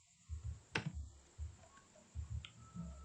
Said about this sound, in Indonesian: Kemudian kita mencoba mengetik